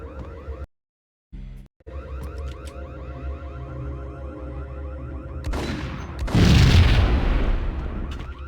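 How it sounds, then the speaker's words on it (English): Grenade launcher explosions in the Max Payne video game, a continuous bed of game noise with a heavy booming blast rising loud near the end. "Well, I bet this will one-hit them. The grenade launcher, that is."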